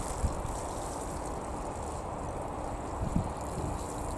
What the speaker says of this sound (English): I've just got this watering can, so I'm just going to go down the line, give them a bit of water.